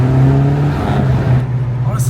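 Civic Type R engine note played artificially through the cabin speakers, a steady droning hum with a strong low tone, continuous and close, under talk.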